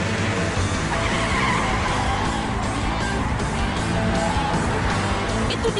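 Cartoon robot cars race, their tires skidding and squealing in a continuous, loud rush of screeching rubber and roaring motors. The noise stays dense and steady throughout, with no talk.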